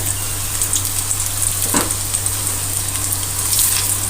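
Gunda sambharo, a gunda pickle mix, sizzling steadily in a pan as it crisps, a continuous close frying hiss with a brief stirring scrape midway and no talking.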